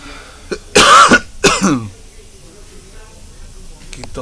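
A sick person coughs close to the microphone: a short hack, then two loud, harsh coughs in quick succession, followed by quiet room tone.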